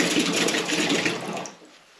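Tap water gushing hard from a camper van sink faucet, a loud steady rush that fades out near the end as the flow stops.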